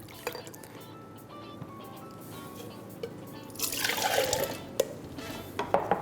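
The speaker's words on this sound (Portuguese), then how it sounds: "Eu vou adicionar um pouco de água já a esta chávena." Water is poured into a cup of freshly squeezed orange juice, a soft trickle swelling into a brief, louder splashing pour near the end, with a few small clinks after it.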